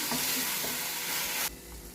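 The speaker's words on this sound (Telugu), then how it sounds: "ఒకసారి బాగా కలిపేసి మూత పెట్టేద్దాం" Broadband sizzling and scraping of tomato and coconut curry being stirred in a hot pan, steady for most of the clip, then quieter near the end.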